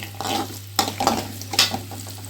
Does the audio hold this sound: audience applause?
no